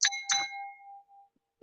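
Two bright bell notification dings strike in quick succession, the second ringing out and decaying for nearly a second, followed by a faint click, with no talk.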